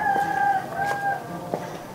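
A rooster crows at dawn in Burkina Faso on election morning, a clear, drawn-out call heard close and alone against a quiet outdoor background.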